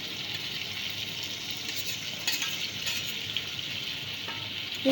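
A jackfruit, prawn and fried potato curry with green chillies, made without onion or garlic, sizzles in a pan as it is stirred, a soft, even hiss with a few faint scrapes and clinks.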